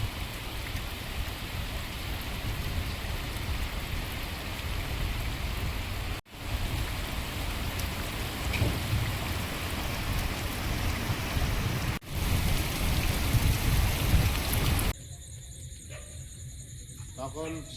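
Heavy rain pours down steadily out in the open on a fishing trip with a ghuni fish trap, a dense, close hiss that briefly dips a couple of times and then turns thinner near the end.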